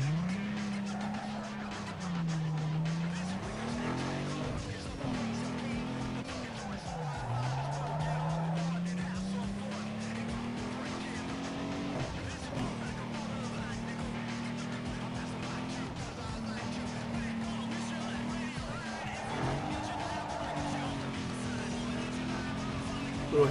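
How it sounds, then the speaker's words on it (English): Game car from Need for Speed Underground 2 racing with a droning engine whose pitch rises and dips through gear changes, tires squealing through a handbrake turn, continuous and steady under a talking voice. "Little handbrake turn action."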